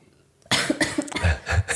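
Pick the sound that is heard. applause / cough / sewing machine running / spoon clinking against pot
cough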